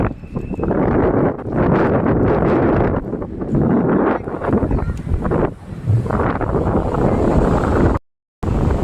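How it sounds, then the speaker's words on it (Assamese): Strong seaside wind at the Mahabalipuram shore temple in Tamil Nadu roars and buffets the microphone continuously, with a low rushing rumble like nearby surf, briefly cutting out near the end. "কি বতাহ"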